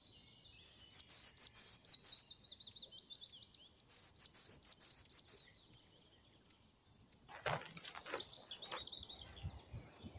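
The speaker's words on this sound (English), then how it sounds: "There is a bird right above us" Songbird chirping in two bright repeated bursts of quick whistled notes, fairly close, followed by fainter calls and rustling in quiet woodland near Hazar Lake.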